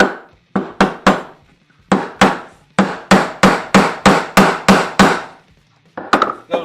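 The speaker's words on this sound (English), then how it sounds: "I'll nail in a few nails and show you guys just how they work" A RYOBI hammer drives a nail in a quick series of sharp, loud strikes, about a dozen close-up whacks in an uneven rhythm with brief pauses between bursts, and no talking.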